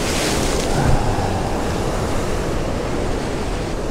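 Rough stormy sea surf at the shore while fishing from the coast, a loud continuous roar of breaking waves with wind buffeting the microphone.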